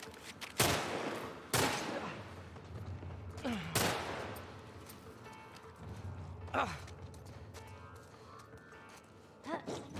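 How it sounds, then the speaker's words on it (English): Gunfire in The Last of Us: Left Behind, several sharp separate shots spread across the clip, loud and close, with a voice speaking now and then in between. "Oh, is that bullets?"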